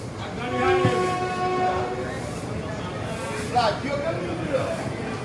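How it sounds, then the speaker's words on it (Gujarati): The rumble of a passenger express train pulling out of Viramgam station with a horn sounding, heard from on board amid a noisy, steady background. "ટોટલી બે મિનિટના હોલ્ડ સ્ટેશન પછી આપણી ટ્રેન નીકળી ગઈ છે"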